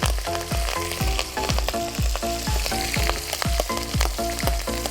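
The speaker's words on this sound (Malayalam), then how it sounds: "എണ്ണയിലിട്ട് നല്ലോണം ഫ്രൈ ആയിട്ടുണ്ട്" Ginger, green chilli, garlic and curry leaves fry in hot oil for a mango pickle, giving a loud, steady sizzle over a repeating rhythmic thump that pulses throughout.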